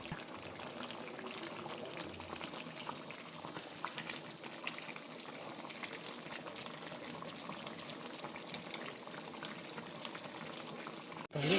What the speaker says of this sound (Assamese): এইফালে মাংসও উতলি আছে